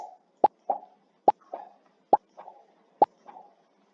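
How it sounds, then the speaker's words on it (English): Four short cartoon pops from Scratch at an even pace, each followed by a softer echoing blip, crisp and close in an otherwise silent background. "but start sound pop."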